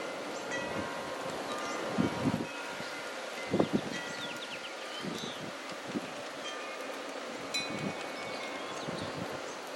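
Wind gusts rustle outdoors around a G scale model railway on a double helix grade, a soft steady breeze with a few louder buffeting bursts and faint track noise.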